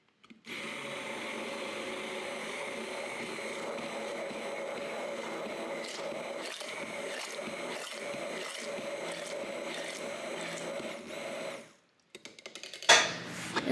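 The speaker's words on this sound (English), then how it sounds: "you just take an immersion blender" An immersion blender whirs steadily for about eleven seconds making mayonnaise, its motor note wavering slightly as it churns, then cuts off, followed by a brief clatter.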